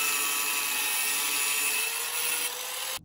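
A tool cuts through a metal vacuum booster stud on a Jeep, shortening it to 7/8 of an inch, producing a loud continuous high whine and grind that holds steady for about three seconds and then stops abruptly.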